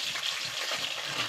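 Tomatoes hit a pan of softened, frying ingredients with a loud, steady hiss and crackle that runs without a break, close up and with no voices.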